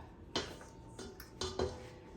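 Spatulas scrape around the edges of a mixing bowl of vegan apple pie bread batter, giving a few quiet, separate scraping and tapping strokes close by, with no talk.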